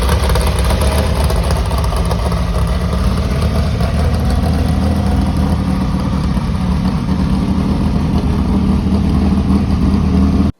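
A desert race car engine making over 500 horsepower on 110 race fuel, driving through a Fortin 4-speed transaxle, roars loud and close at a steady high drone for the whole stretch, cutting off abruptly at the end.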